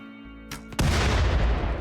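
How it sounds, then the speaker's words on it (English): A large in-game explosion bursts out suddenly after a couple of softer thuds, then roars loudly and keeps rumbling with dense debris noise to the end. "That's a terrifyingly large explosion, actually."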